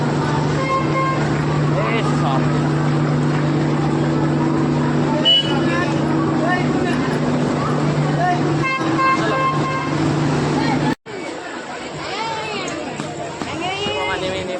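A car honks in a long, steady blare over constant road noise. Voices murmur nearby, and the sound cuts out briefly near the end.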